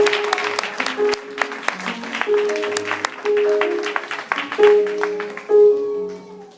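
A church congregation breaks into loud applause, a dense wash of clapping that swells and holds, with a few voices and cheers rising over it.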